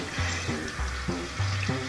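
Water runs from a tap in a steady stream, with low hum-like tones rising and falling beneath it.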